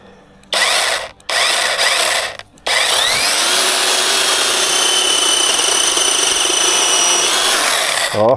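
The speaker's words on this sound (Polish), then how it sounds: "to robimy teraz test piły Meister" A Majster 40 cm cordless electric chainsaw, dual 2x4Ah battery, runs in two short bursts and then a long steady whine that rises and settles while cutting a branch, loud and close, with no talk.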